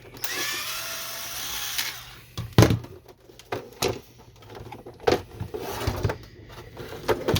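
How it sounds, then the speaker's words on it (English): Screws being driven out of an HP Photosmart B210a printer with a power driver, a short whirring burst at first, then scattered clicks, clacks and light plastic knocks as the parts are handled nearby. "You can remove these screws here"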